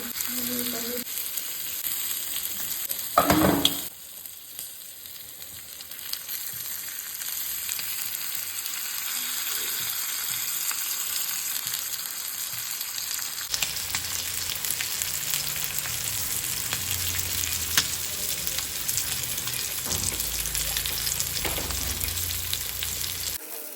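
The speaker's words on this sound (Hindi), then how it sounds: "तब तक हम अपना प्रॉन्स फ्राई करके लेंगे।" Prawns sizzle and crackle steadily in a hot pan, with a brief clatter near the start and the frying growing louder later on.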